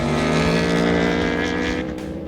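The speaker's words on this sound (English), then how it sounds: "The RSV4 could be the best sounding bike here. It is such a cool sounding motor." An Aprilia RSV4 superbike engine at close range on a race track, a loud sustained high-pitched wail that holds steady and then eases off slightly near the end.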